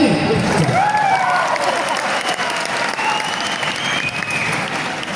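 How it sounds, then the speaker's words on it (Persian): An audience at a Nimeh Shaban celebration claps in a loud, continuous burst of applause lasting several seconds, with a few voices and whistles mixed in. "آقا تشویق هم کنی."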